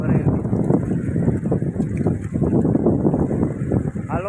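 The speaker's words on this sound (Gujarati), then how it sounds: "જો ટ્રેક્ટર હાલે છે" A tractor runs close by on a farm during cotton season. Its engine gives a steady low rumble, mixed with gusty wind noise on the microphone and people talking nearby.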